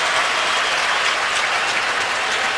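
Dense, steady applause and cheering from a big stadium crowd at an NFL game, the Steelers at the Raiders in 2012, rising as an injured player is helped off the field. It is loud and continuous, with no voices heard above it.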